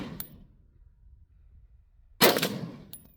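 Two gunshots at a shooting range, a small sharp crack followed by a louder, ringing report with a trailing metallic clang, heard close and alone against quiet background.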